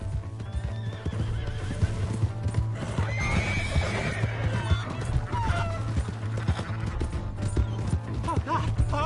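A horse in a video game gallops with rapid clip-clop hoofbeats and lets out neighs, heard close under shouted voices and game noise.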